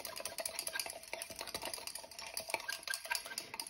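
A jelly soap mixture with colour and bio glitter is whisked in a bowl, giving quiet rapid clicking and tapping strokes at close range.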